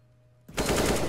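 A sudden burst of automatic rifle fire in the Counter-Strike 2 video game, a rapid spray of shots beginning abruptly after a quiet moment and continuing loud and close to the end.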